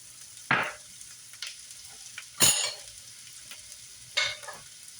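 Shrimp fried rice frying in a pan, heard as three distinct bursts of sizzling with quiet stirring between them, close and fairly soft, no talking.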